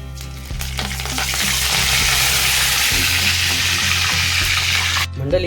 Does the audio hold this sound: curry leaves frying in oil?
yes